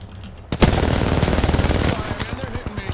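Rapid automatic gunfire in the video game Apex Legends erupts after a short pause, a dense burst of shots that thins into separate pops toward the end, loud and close.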